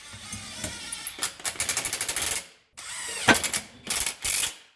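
A flex-head ratchet with a 14 mm socket runs up transmission bolts on a 2009 Subaru Forester during clutch work, giving fast close clicking bursts that come in two runs broken by a brief pause.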